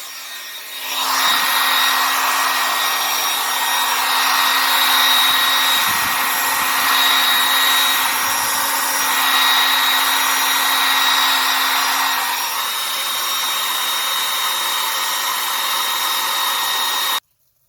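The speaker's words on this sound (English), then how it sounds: "So I've used the hair dryer, or you can use a heat gun" A hair dryer blows steadily at close range on a clay coil-built ceramic piece for a long stretch, its airflow shifting slightly as it moves, then cuts off abruptly.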